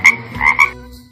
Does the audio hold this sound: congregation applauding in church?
no